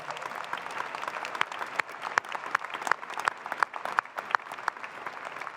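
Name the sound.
applause for the graduates' families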